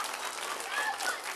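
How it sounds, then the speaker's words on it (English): A live audience claps loudly in a brief, dense wash of applause, with a voice partly heard over it. "Oh, now you can clap real loud."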